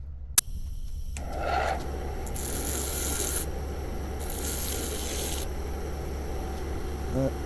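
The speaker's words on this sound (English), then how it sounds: "go over to the sander" A power sander works over a metal engine part being prepared for a 302 V8 swap, giving a steady, continuous rasping and grinding drone close by, with a sharp knock near the start and brief harsher swells partway through.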